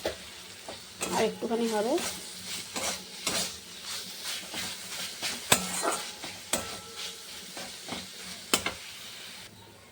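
Leafy greens (shak) fry in oil in a pan, with soft sizzling under repeated scraping stirs and clinks of a utensil against the pan; a voice speaks briefly.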